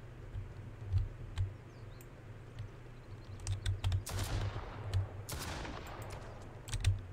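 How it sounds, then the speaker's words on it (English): Gunfire in the survival video game Mist Survival, a few scattered shots and then two bursts of rapid fire with trailing echoes, mixed with soft keyboard and mouse clicks, moderately loud and without speech. "Is he shooting me?"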